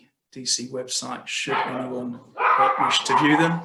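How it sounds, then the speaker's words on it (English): A dog barks several times indoors in short sharp bursts, close and loud, overlapping someone speaking. "Sorry, that's my dog barking, somebody must be at the door."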